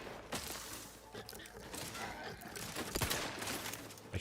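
Video game gunfire crackles in dense, sustained bursts of rapid shots, loud and continuous across the moment, with a player talking over it.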